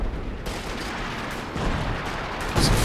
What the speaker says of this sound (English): now does drop the artillery